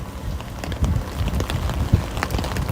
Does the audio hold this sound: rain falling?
yes